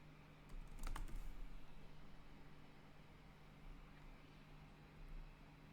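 Quick burst of computer keyboard typing, faint and close, as a show IP route command is entered, then a steady low electronic hum continues alone.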